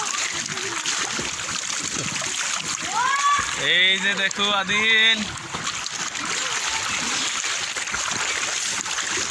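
Water splashing and lapping as a father and son swim, choppy waves sloshing steadily throughout while someone talks over it in the middle.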